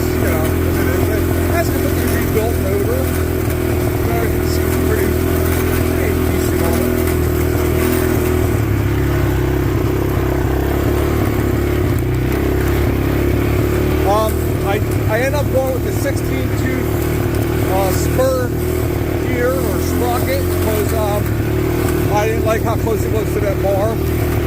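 A 150cc Chinese quad ATV with a rebuilt motor idles and runs steadily, its engine rattling and clattering loudly up close while someone talks over it throughout.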